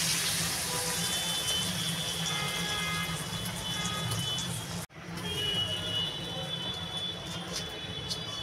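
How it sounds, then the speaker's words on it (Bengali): Water poured into a pan of simmering potatoes and flat beans, a steady close gushing and sizzling hiss that cuts off briefly midway, then resumes as bubbling. "আমি এবার পরিমাণ মতো জল দিয়ে দেবো"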